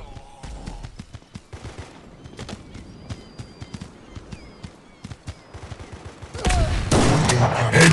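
Repeated sharp gunshots and rapid bursts from the mobile shooter Guns of Boom pop steadily throughout, with a dense, louder volley of fire near the end and brief announcer voice lines between shots.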